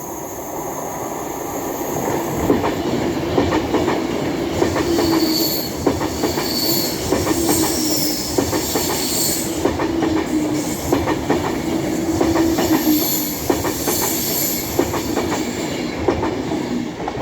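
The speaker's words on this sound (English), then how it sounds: "an Avanti West Coast Class 390 running from London Euston to Manchester Piccadilly" An Avanti West Coast Class 390 train from London Euston to Manchester Piccadilly passes at Cheadle Hulme on the West Coast Main Line, with a loud, sustained rumble of wheels, rhythmic clickety-clack over rail joints, and intermittent squealing.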